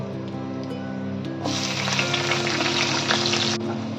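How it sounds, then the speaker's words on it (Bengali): Chopped onion with salt dropped into hot oil tempered with nigella seeds for a tangra fish curry, a quiet hiss that swells into a loud, steady sizzle, then drops off near the end. "পেঁয়াজটা একটু ভাজা ভাজা হতে দিতে হবে"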